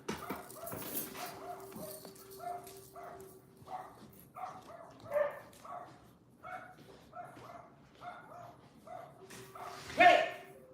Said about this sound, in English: You know I have to get the dog